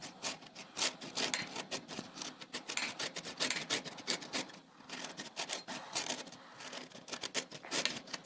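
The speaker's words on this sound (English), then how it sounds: "Take an untreated lemon, please, and finely grate the zest." An untreated lemon being finely grated for its zest, with a steady, close rasping scrape repeated in quick strokes and no voices.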